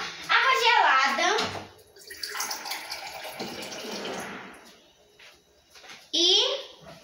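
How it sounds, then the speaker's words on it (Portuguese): Ice-cold water for gelatin pours in a splashy, rushing stream for several seconds, with a child and another person talking at the start and again at the end. "A gente vai botar água gelada."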